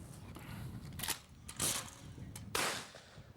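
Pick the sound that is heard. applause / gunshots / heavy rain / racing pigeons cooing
gunshots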